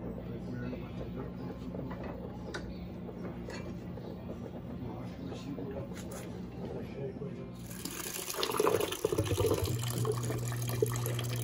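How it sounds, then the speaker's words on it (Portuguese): An LG Prime Touch WD10WP6 washer-dryer drains its first rinse water, a steady low hum and flowing water that swells into a louder gushing rush near the end, with talk over it at first. "Drenagem do primeiro enxágue"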